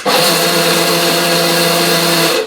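A blender runs in one steady, loud burst of about two and a half seconds while coarsely grinding seasoning for Texas-style smoked brisket, then stops abruptly; no one speaks.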